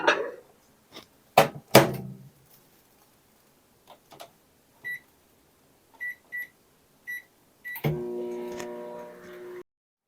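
A microwave oven heating miso soup: a few clicks and short keypad beeps, then the steady, close hum of the oven starting up and running.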